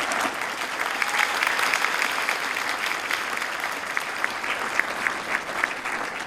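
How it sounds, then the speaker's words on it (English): Audience applauding honorees at a high school distinguished citizens recognition: steady, moderately loud clapping from a sizable crowd, with individual sharp claps standing out, continuing evenly throughout. "Let's give them a nice round of applause for that."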